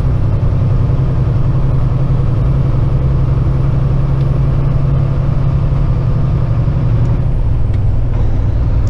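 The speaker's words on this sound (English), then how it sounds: "the exhaust brake on this thing, I love it" Exhaust brake on a Kenworth heavy truck, a loud steady low-pitched engine drone and rumble heard up close inside the cab, continuous for the whole stretch with a slight shift toward the end.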